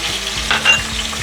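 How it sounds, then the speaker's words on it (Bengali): Chicken frying in a pan sizzles briefly and steadily at close range, with a soft stirring scrape in the middle and no talking. "ফ্রাই করে নেব।"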